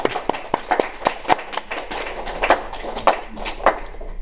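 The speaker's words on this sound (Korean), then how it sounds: "오늘 정말 좋은 말씀을 전해주신 우리 목사님께 다시 한번 박수를" Applause for the pastor at a church service: a run of sharp, fairly regular claps, like a handful of people clapping in a room, with no talk over them.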